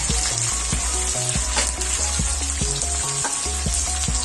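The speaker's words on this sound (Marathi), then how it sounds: "चांगले कुरकुरीत होईपर्यंत तळून घ्यायचे।" Garlic fries in hot oil in a kadai, cooked until crisp for a Belgaum-style bhadang snack: a loud, steady sizzle runs throughout, with music playing underneath.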